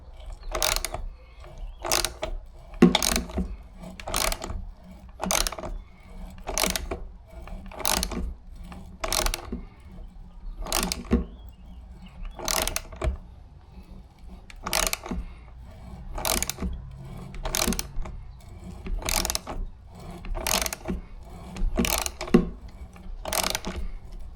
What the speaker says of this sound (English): Feel it cutting the threads now.